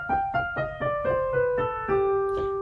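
A musical mode scale starting on G, played as sustained pitched notes, about seven distinct steps in an even rhythm, each note ringing into the next, clear and close with no talking.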